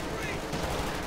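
Machine guns mounted on a Panther tank fire in the Company of Heroes 2 video game, a dense, continuous rattle of gunfire amid battle noise, with a commentator talking over it.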